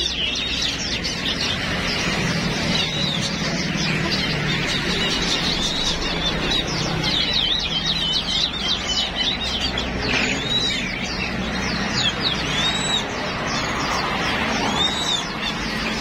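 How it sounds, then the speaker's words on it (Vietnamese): An ornamental songbird kept as a pet at a bird-raising business sings continuously, with quick, bright whistled trills and chirps repeating close by over constant low background noise. "Tiểu My hót rồi nè"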